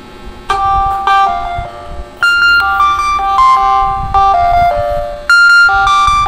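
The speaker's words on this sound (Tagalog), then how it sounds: "tutunog yung isang cellphone ko, paparinig ko lang sa inyo guys" Samsung Galaxy A10s phone ringing after being triggered through Google Play Sound, a loud repeating melodic ringtone of bright chiming notes in phrases, close and alone with faint background noise.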